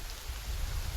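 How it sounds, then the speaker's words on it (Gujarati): Heavy monsoon rain falling hard, a thick unbroken roar of drops on surfaces, fairly quiet overall but steady and close, with no speech. "એટલો વરસાદ આવે છે"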